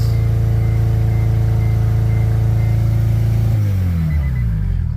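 Turbocharged DA9 Acura Integra engine idling too high, a loud steady drone with a strong low hum for several seconds, then the tone drops and winds down as the engine is shut off.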